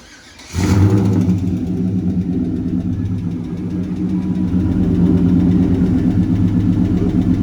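A 1995 Chevrolet Caprice with a swapped 5.3 LS V8 turns over and catches, then settles into a steady, loud, close idle that holds evenly with a slight swell near the end while oil pressure builds.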